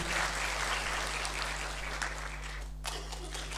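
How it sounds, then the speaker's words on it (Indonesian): An audience at a formal event hall with ministers and ambassadors gives steady applause, dense and even, fading near the end under a low hum. "Tepuk tangan untuk kita semua."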